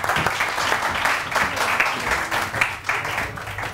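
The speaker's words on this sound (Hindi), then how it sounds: "बहुत सारी तालियां।" A studio audience applauds during a fashion segment on a live morning TV show, a dense, even wash of clapping that carries on steadily without pause.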